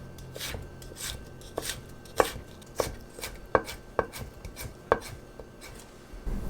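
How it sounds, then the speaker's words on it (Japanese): A knife chops ginger finely on a cutting board in a steady series of about a dozen crisp, close taps, with no talking. "まず薄切りにしてから端から刻んでいきます。"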